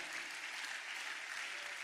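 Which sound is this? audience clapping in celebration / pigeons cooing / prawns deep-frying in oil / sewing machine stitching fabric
audience clapping in celebration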